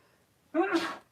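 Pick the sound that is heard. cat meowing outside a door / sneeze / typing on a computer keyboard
sneeze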